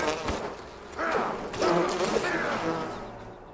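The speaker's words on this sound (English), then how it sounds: "Oh, bees." Bees buzzing in the Enshrouded game, a busy insect drone that swells and wavers over about three and a half seconds with a few whooshing passes, steady and fairly close.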